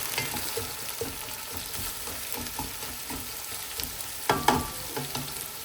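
Red onions frying in a pan toward light brown give a steady, quiet sizzle. Soft stirring scrapes run through it, and a louder clatter of the spoon comes near the end.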